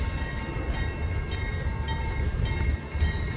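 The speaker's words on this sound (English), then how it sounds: "The train before us here is a Galesburg yard job with a Santa Fe Warbonnet." A Galesburg yard job train led by Santa Fe Warbonnet locomotive number 673 gives off a steady low rumble at a moderate distance, with faint rail noise and no voices.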